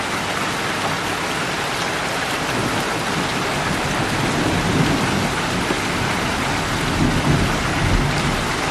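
Heavy thunderstorm rain in Port Elgin, Ontario, Canada, pouring as a dense, loud, unbroken hiss with low thunder rumbling underneath throughout, no voices.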